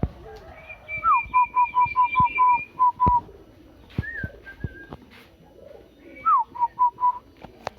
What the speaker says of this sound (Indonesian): perkutut.